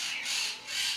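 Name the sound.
macaw parrot squawking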